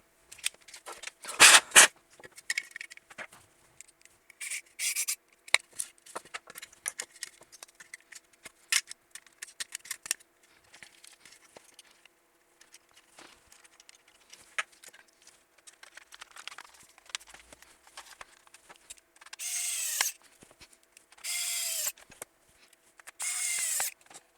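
A PS4 controller being reassembled after a no-solder USB-C port swap, with five screws: scattered close plastic clicks and snaps, a sharp crinkle early on, and several short whirring bursts near the end, with no speech.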